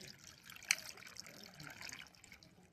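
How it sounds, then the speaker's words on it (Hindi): Water is poured into a potted plant set with shells, making a faint trickle with a brief splash near the start. "पानी पोर कर दिया।"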